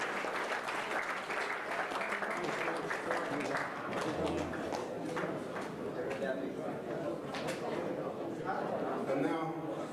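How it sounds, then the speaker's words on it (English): Sustained audience applause after the 2018 darts world championship finals, a dense even wash of clapping from a large hall crowd, with someone speaking over it throughout. "please a big round of applause for both the finals, the ladies and the gents"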